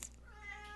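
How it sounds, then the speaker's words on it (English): A pet cat gives a single short meow, faint and brief, heard alone. "If you can hear my cat in the background"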